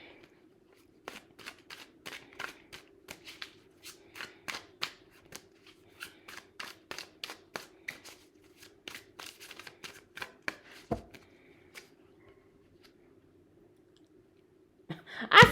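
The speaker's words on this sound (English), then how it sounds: "I thought I shuffled this the correct way." Tarot cards being shuffled by hand during a collective reading, a long run of crisp riffling clicks and snaps in quick bursts over a steady low background hum, close and clear with no talking.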